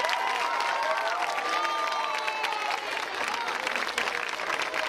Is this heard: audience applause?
yes